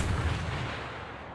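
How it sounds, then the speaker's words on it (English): Deep, booming artillery-style gunfire from warships in a video game match, rumbling continuously, loud and close, with no talking. "So even more interesting gunfire going on."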